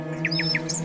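In an animated Hindi story, a cartoon bird gives three quick, bright chirps followed by a higher twittering call, all set over a steady low background drone.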